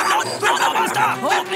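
Short, high-pitched yips and barks from a small dog, a few quick bursts over about a second and a half, close and fairly loud.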